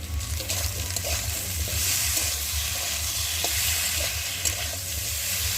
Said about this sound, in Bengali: হলুদ গুঁড়ো জিরে বাটা আর আদা বাটা দিয়ে ভালো করে কষিয়ে নেব